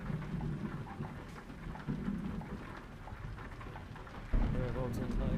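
A thunderstorm in Euro Truck Simulator 2, with steady rain hissing throughout and deep thunder rolling underneath, swelling into a louder rumble near the end.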